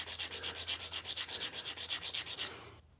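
A metal key for a jointer's drive pulley is hand filed in about twenty steady, rhythmic rasping strokes, close and fairly loud, with no talking, before the filing stops abruptly.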